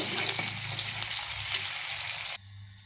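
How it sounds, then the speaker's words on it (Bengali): Onion sizzles and fries in hot oil in a pan for a Bengali chicken dish, a steady close crackle that drops off abruptly near the end. "তো আজকে গরম তেল দিলাম, তেলের মধ্যে পেঁয়াজ দিলাম ফোড়নে, একটু ভেজে নেব।"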